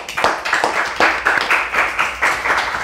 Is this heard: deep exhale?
no